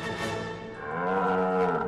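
A buffalo gives one long, loud moo from close by. The deep, droning call rises slightly in pitch toward the end, and no one speaks.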